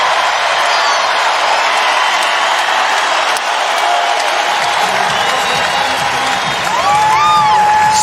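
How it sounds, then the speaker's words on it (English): A sold-out arena crowd at an NCAA women's basketball second-round game between Gonzaga and Utah roars continuously during a timeout, loud sustained cheering and clapping with whoops and whistles rising near the end. "The crowd tells the story."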